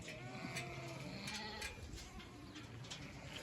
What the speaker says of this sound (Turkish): koyunlarımızı dışarı çıkaralım